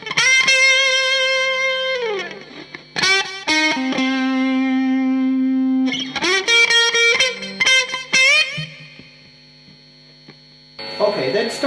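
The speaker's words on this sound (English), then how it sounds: "I have a Buffalo TDX that is modeled after a tube driver." Electric guitar played through a Buffalo TD-X tube-driver-style overdrive at very low gain with treble turned way up and lows slightly cut, ringing sustained chords and single notes with bright, slightly harsh edge over a faint mains hum, no talking.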